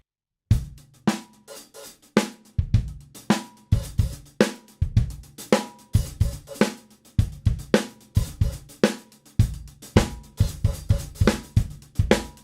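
A drum kit plays a steady, upbeat disco-style groove with crisp hi-hat strikes and punchy kicks and snares, repeating evenly throughout.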